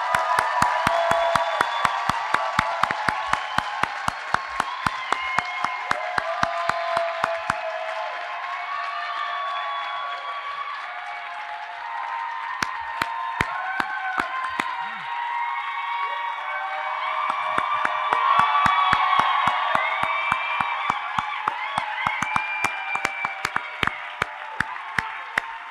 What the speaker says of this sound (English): Let's give a big round of applause to all of our master's students.